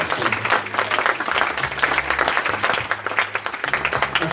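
Steady, dense applause from an audience at a homegoing funeral service, loud and sustained throughout with a low musical hum underneath.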